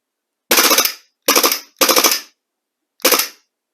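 A Raven EU Series 18 gas blowback airsoft pistol fires four short full-auto bursts, each a rapid, sharp string of pops, loud and close with brief silences between.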